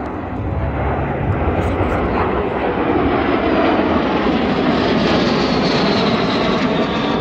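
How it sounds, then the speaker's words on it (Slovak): Four fighter jets fly past at the Piešťany air festival in Slovakia, a loud continuous roar of jet engines that builds and holds steady throughout, with no talking. "Je to 4 stíhačky a jeden nestíhal."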